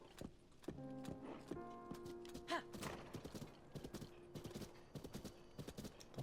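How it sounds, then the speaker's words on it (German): Hooves of wild horses in Zelda: Tears of the Kingdom clip-clop in quick, uneven beats with one brief whinny, over game background music. No voices. "Ein paar wilde Pferde."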